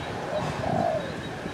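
A decoy dove used for bird trapping in Phú Yên, Vietnam, gives a soft, low cooing call in the middle of the clip over a steady background hiss.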